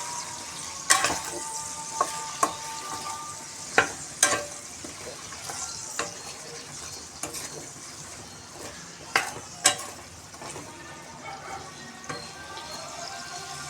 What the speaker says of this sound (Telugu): ఇలా ఆయిల్లో వంకాయని బాగా మగ్గిపోవాలి.